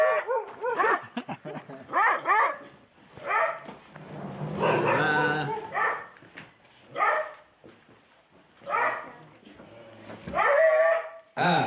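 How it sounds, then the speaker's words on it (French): Several hunting dogs bark in repeated bursts of loud, close yelps and bow-wows, with pauses between volleys and a little talk in the background. "après tu peux plus les arrêter les chiens"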